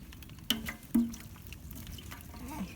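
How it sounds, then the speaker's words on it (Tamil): Ghee poured into a pot for chicken biryani during village-style cooking, two soft liquid splashes landing close by against a faint background hiss. "நூறு கிராம் நெய் ஊற்றுறேன்."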